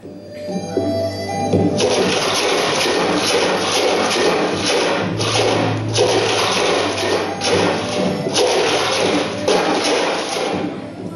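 Water gushing and splashing steadily for several seconds, loud and close, with a few thumps and a muffled rush like a tap left fully open or a flush running.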